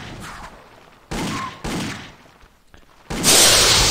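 Gunfire in the Indiana Jones and the Infernal Machine video game as a creature is shot: several sharp, loud bursts separated by brief pauses, the final burst the heaviest and longest.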